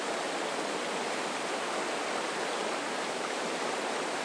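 A clear, beautiful river flows steadily nearby, giving a dense, continuous rushing wash of water with no voices over it.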